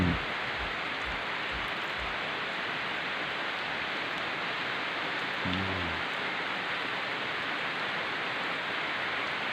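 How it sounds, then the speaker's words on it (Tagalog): Steady, dense rain pours down in a constant hiss, with a few faint low knocks early on and a brief tonal sound midway. "Grabe ang lakas ng ulan guys"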